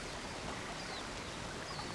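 Waterfall in the video game Road 96, a dense, even rushing hiss of falling water that holds steady and moderately quiet throughout with no voices.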